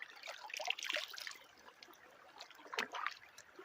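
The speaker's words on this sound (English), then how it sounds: "A bubbling brook." Bubbling brook in Flathead National Forest, faint trickling water with soft splashing bursts, heard close and alone in a quiet outdoor setting.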